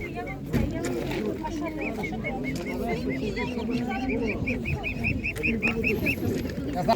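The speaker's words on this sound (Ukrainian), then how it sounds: "Качка дуже велика породна." Large purebred Muscovy ducks at a market, giving soft repeated honking calls under steady nearby talk and background crowd noise.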